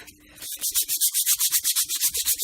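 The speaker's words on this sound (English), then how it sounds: "rust that I can just pull off with a tiny bit of sandpaper" Sandpaper rubbing rust off a metal lathe in a quick, even back-and-forth rhythm of roughly a dozen close, raspy strokes after a brief quiet start.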